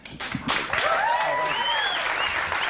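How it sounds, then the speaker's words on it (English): Audience applause at a live show breaks out after a brief pause and builds into sustained, full clapping, while voices talk over it. "Married guys don't applaud that"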